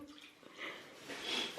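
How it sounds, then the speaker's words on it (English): A baby splashes in bath water at home, soft sloshing and dripping rising and falling in a few quiet bursts, close by with no talking. "He's splashing me."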